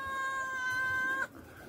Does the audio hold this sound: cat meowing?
yes